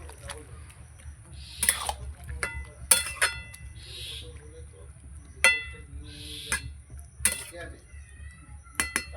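A metal lid set over a pot of pumpkin greens cooking on the stove, giving a few sharp clinks and clatters among soft kitchen noise and light handling sounds.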